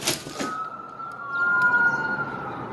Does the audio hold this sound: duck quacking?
no